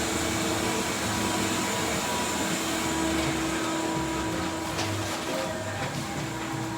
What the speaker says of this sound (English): And this is our vacuum system.